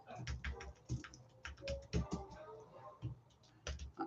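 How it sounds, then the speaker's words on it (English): Rapid bursts of keystrokes on a computer keyboard, close and fairly quiet, with irregular clicking clusters and brief pauses between them. "So I'm typing the address over on YouTube too."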